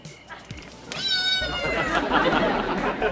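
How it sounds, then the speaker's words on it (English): Cat meowing in a scene from the Alf Halloween episode, a single drawn-out, wavering meow up close, followed by talking and background noise. "Was that a cat?"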